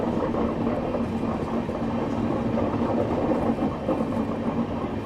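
The Pune Duronto Express runs at speed between Kolkata and Pune, heard from inside the coach as a steady loud rumble and rattle of wheels on rails, continuous and even with no speech.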